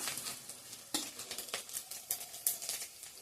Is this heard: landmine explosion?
no